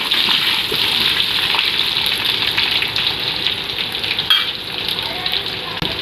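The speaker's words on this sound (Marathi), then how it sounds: "हे बघा आपल्या मिरच्या छान चढल्या तळल्या गेल्या आहेत" Green chillies and curry leaves fry in hot oil for a dhokla tempering, a steady loud bright sizzle close by, with a faint clink of a utensil partway through and no talking.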